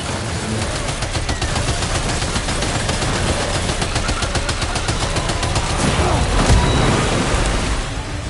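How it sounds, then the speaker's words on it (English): Rapid sustained gunfire in the video game Death Stranding 2, a dense, loud automatic rattle running continuously with a heavier burst near the end. "Opening fire now."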